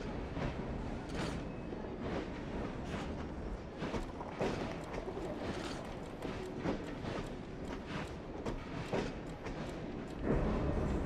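A moving train in the video game Assassin's Creed Syndicate, a steady low rumble with rhythmic clicking of wheels over rail joints, continuous and fairly faint throughout.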